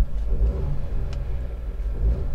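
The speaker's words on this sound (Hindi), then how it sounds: "अब इसको मैं आपको रेव करके भी दिखा देता हूँ किस तरीके की आपको साउंड मिलती है यहाँ पर" Mahindra XUV 300 Turbo Sport engine revving in place, a steady deep rumble with a couple of throttle swells, loud and close, with no talk over it.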